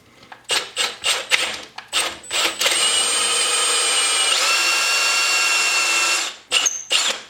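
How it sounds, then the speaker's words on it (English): A hand drill whirs in short bursts, then runs steadily for several seconds with its pitch shifting, before a few more quick bursts; loud and close. "Half a second with a hand drill."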